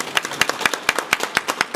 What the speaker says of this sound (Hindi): अनीता जी के नाम पर एक बार ताली बजे ही जाए